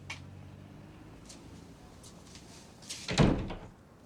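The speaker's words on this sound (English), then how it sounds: "You shut the door, will you?" A door is shut with a single solid thud near the end, preceded by faint creaks and shuffling in a quiet indoor room.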